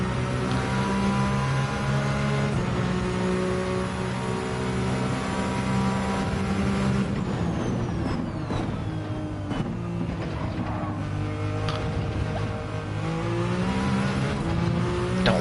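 A race car engine in Gran Turismo 7 drones loud and steady throughout, with a shift in pitch partway through and faint tire noise, no talking.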